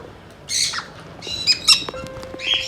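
Lovebirds and conures in an aviary squawk in sharp, shrill bursts, several calls in quick succession, fairly close over quiet background chatter of other birds.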